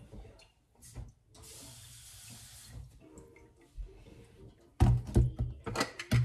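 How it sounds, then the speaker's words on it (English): Water runs from a kitchen tap while ginger drink is being made, a soft hiss that stretches for a few seconds amid quiet kitchen clatter, followed by louder, choppy splashing bursts near the end. "I'm gonna add some water."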